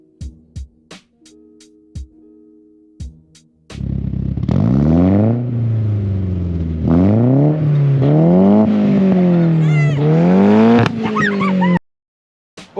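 Nissan 200SX S13 with a 3-inch exhaust revving hard, close and loud, climbing and falling in pitch through several rev cycles before cutting off abruptly. A few light clicks and taps come before it.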